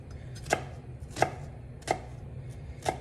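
A knife chops through half an onion on a cutting board in four sharp, evenly spaced strokes, each a crisp close thud with quiet gaps between.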